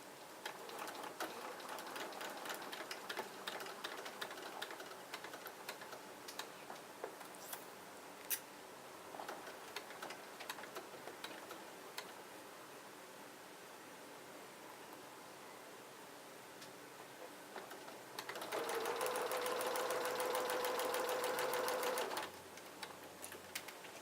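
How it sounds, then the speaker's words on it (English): A sewing machine stitches a quilt block, running in a steady, soft mechanical whir with small ticking taps, then a louder, faster burst of stitching toward the end. "she's starting over where she'd sewn before by just a little bit to lock those stitches"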